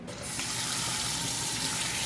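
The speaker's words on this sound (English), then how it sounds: "Now I'm gonna rinse it." Kitchen tap running steadily as artichokes are rinsed under the stream, a close, even hiss of water hitting the sink after a brief start.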